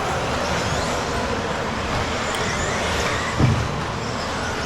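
A Schumacher Cougar LD2 radio-controlled car races on a club track in winter competition, heard as a continuous broadband whir and rushing noise with one brief thump near the end.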